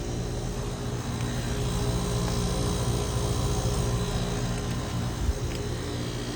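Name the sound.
Goodman heat pump with reciprocating compressor running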